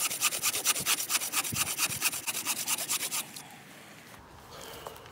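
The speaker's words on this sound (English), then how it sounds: "I can make the tree topple down under control using the saw." A BAHCO Force Ergo 24-inch bow saw cuts into a tree outdoors, making loud, close, rhythmic rasping push-pull strokes for about three seconds before the sawing stops and only faint background remains.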